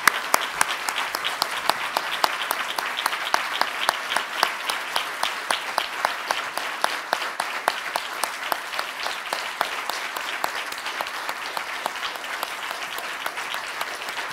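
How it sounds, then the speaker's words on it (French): An audience at a national photovoltaic conference gives warm, steady applause, a dense wash of many hands clapping that continues evenly throughout. "nous le remercions en l'applaudissant chaleureusement"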